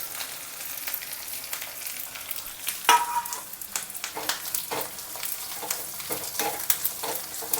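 Green chillies, crushed garlic and curry leaves sizzle in hot oil for gattisoppu, a close, steady crackling fry with repeated clinks and scrapes of stirring throughout.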